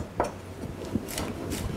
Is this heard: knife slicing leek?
yes